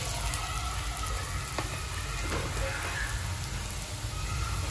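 Tomatoes and onion frying in a pan give a steady close sizzle and crackle as spices are added, with a few faint scrapes and knocks over the constant hiss.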